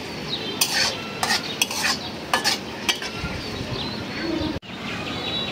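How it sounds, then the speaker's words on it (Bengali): Sliced onions fry in hot oil in a pan for a fish and potato curry, a steady close sizzle broken by several sharp scraping strokes of a spoon stirring. "পেঁয়াজটা ভাজা নিই।"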